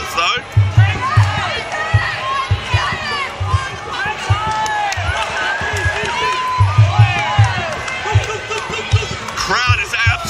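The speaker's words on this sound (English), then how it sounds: "Crowd is absolutely going wild here at the St. Kilda Town Hall here at Rebellion Muaythai" Loud crowd cheering and shouting at a Rebellion Muaythai fight in St. Kilda Town Hall, a dense continuous roar with rhythmic low thumps, under a commentator's steady voice.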